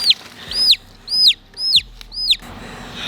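Chickens on a farm in Coimbatore give four loud, close clucking calls in an even rhythm, with quiet pauses between them and no talk.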